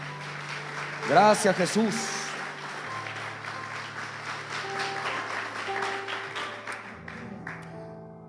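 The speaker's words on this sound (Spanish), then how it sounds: "Dele fuerte el aplauso al Señor" A church congregation claps and cheers loudly for a few seconds after a call to praise, a burst of applause that fades into a sustained murmur, with a voice speaking briefly over it.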